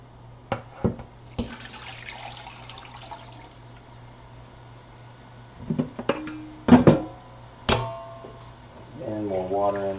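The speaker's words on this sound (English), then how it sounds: "And more water in with the stock." Water pours from a kitchen tap into a pot of turkey stock, with a steady running stream under intermittent clatter and handling knocks, and a brief rising filling tone near the end.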